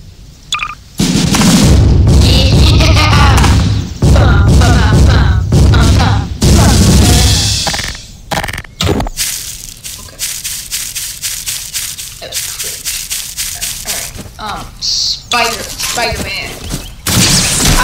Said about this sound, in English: Attack shotgun. That sounded like a freaking machine gun.